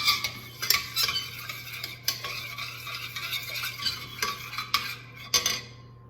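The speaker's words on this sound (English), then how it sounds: "Stir that around with the butter." Honey being stirred into melted butter in a pot, a spoon scraping and clinking against the metal in an irregular rhythm close by, over a soft steady hum with no voices.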